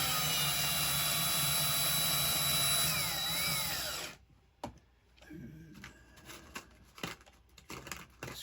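Cordless drill driving screws to fasten the bottom body piece of an Arrma Nero Big Rock 6S RC monster truck: a loud steady whine runs for about four seconds, then stops, followed by faint clicks and handling noises.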